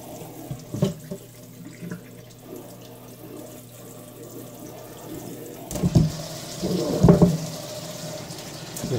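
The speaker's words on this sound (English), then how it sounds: "And then obviously rinse your station." A tap runs into a sink while a tie-dye station is rinsed, a steady low wash of water with splashing bursts and clatter building toward the end.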